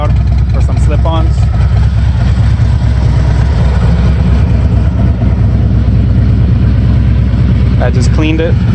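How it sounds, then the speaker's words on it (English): A 2019 Harley-Davidson Road Glide with the 107 engine, Screamin Eagle tuner and intake, and Cobra slip-on exhaust idles with a deep, steady rumble, loud and close, while someone talks over it. "I have the Cobra Neighbor Haters exhaust on, pretty loud for some slip-ons."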